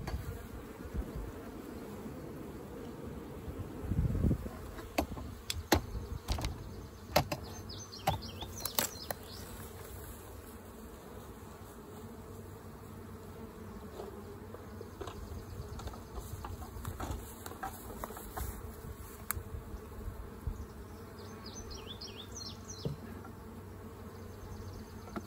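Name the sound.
honey bees buzzing around an open hive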